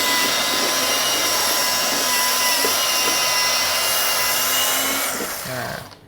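A Fuyaon brushless grinder sanding wood at speed 2 gives a loud, steady high-pitched whine with a constant tone, close up, then winds down and fades at the end.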